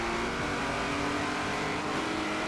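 Race car engines drone and rev loudly and steadily as cars launch off the starting line in a Forza Horizon 4 online race, including a Cadillac limo and a Jaguar.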